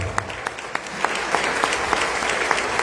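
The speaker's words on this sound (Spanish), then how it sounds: "bríndele fuerte el aplauso al Señor." A church congregation applauds loudly and steadily, dense clapping filling the space for a few seconds with no talk over it.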